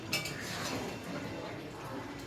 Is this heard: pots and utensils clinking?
yes